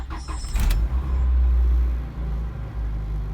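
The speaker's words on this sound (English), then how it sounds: "This is like an ultimate cold start." An Acura Integra engine turns over on a cold start, catching with a heavy low rumble that surges, then settles into an uneven rough idle, close and loud.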